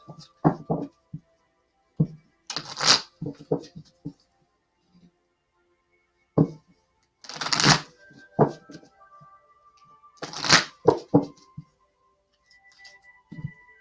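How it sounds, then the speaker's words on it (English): Archangel Oracle cards shuffled and handled during a weekly card reading, heard as soft papery riffles and slaps in a few bursts with quiet gaps, small taps and clicks scattered between them, close and moderately loud with no talking. "let's pull an Archangel Oracle card to go with that"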